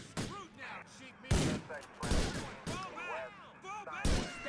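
Grand Theft Auto 4 gunfire during a police chase: five sharp, loud gunshots spaced about a second apart, each trailing off with echo and debris, with a quiet voice between shots.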